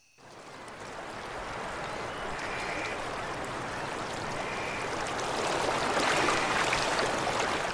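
A river where sockeye salmon spawn, flowing with a soft, continuous hiss and gurgle that swells slightly toward the end and stays faint and distant throughout.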